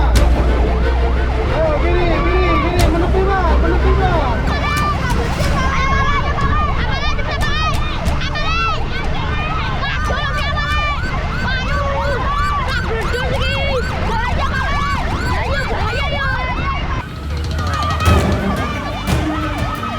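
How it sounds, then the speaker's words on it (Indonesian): A fire truck's wailing siren rises and falls repeatedly, loud and close, with a busy street and crowd noise underneath. "Sambil meraung-raung menyalakan sirine, mobil pemadam kebakaran pun melaju dengan cukup cepat."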